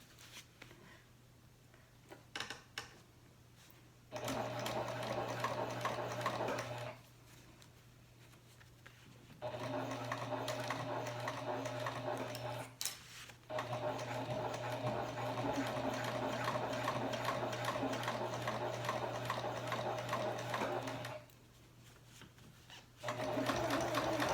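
A Janome HD9 sewing machine stitches in several long steady runs, each a loud even mechanical whir lasting a few seconds, separated by brief pauses, heard close up with no talking.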